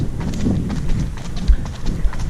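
Horse hooves clip-clop at a steady walking rhythm on a trail ride outside Barcelona, close and fairly loud, with rustling ambient noise around them.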